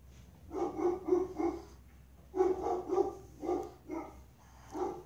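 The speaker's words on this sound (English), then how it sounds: "Dogs can be annoying, guys, you know that." A dog barks in several quick clustered bursts with short pauses between, fairly close and clear over a quiet background.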